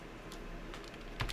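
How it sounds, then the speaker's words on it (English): A computer keyboard clatters with a few quick, scattered keystrokes over a low room hum, ending in a louder burst of clicks, close by and without speech. "I don't know what my keyboard was doing."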